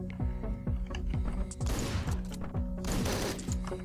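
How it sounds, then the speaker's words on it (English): Repeated shotgun blasts in Hotline Miami 2, sharp close bursts in a rapid irregular volley over pulsing game music, with two louder noisy blasts standing out. "That guy's gotta get shotgunned."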